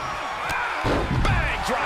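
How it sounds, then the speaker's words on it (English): A drop kick lands in WWE 2K23 wrestling gameplay on PS5, a sharp slam-like impact with a couple of further thuds in quick succession, under an excited commentary voice. "Bang! Drop kick."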